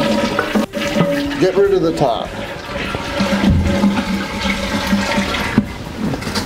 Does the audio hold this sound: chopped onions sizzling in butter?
no